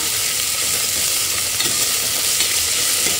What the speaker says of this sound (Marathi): तोपर्यंत आता कांदा टोमॅटो छान परतून झाला आहे.